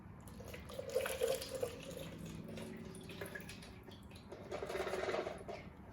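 Water poured from a height of about 10 centimeters onto a small hydropower wheel in a lab demonstration, giving a steady, soft splashing and trickling that swells slightly near the end, with no talking.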